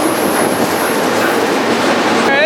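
BNSF freight train passing close by in winter on a line toward Jefferson City, a loud continuous rumble and roar of wheels on rail with a brief squeal near the end.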